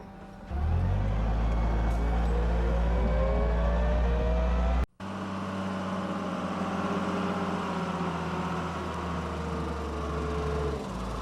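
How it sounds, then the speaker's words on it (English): Heavy trucks rumble and rev nearby at a recycling facility where sorted, baled material is loaded and hauled off. A steady low engine drone holds throughout and briefly cuts out midway, with no talk over it. "I think I hear a couple of trucks unloading right now."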